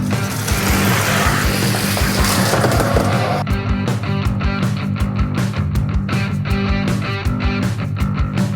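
Hot Wheels die-cast Pontiac Firebird Trans Am and Mustang toy cars from a Fast and Furious quarter-mile set racing down a plastic track, a loud rolling rush followed by rapid clattering rattles as they finish, with no talking.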